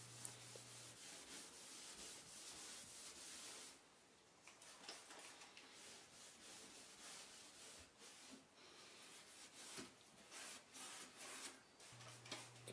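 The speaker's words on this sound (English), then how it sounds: "You spray meths on, wipe it off with the steel wool." Steel wool soaked in methylated spirits scrubbing stripped wood panelling, with faint, close rubbing and scratchy strokes that come in uneven bursts, broken by a short pause partway through.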